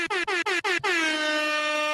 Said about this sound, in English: Trucker Sean gets the air horn